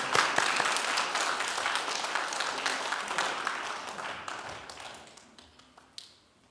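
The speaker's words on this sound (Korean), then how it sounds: "박수 칠 거면 제대로 쳐주세요." A church congregation claps together as people come forward, a dense, steady patter of many hands that thins out and fades over the final seconds.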